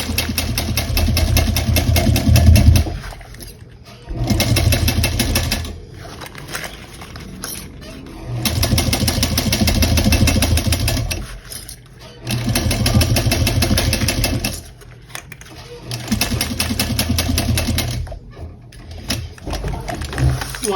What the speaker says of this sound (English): we're gonna sew around this whole thing, the whole gusset